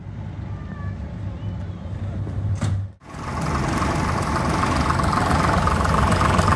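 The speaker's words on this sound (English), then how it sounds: "I want to hear the sound of the Leyland 680 engine" A BUT diesel multiple unit railcar with a Leyland 680 diesel engine runs at a railway diesel gala, giving a steady loud low rumble. A brief dip in the sound is followed by a fuller, heavier engine roar that continues.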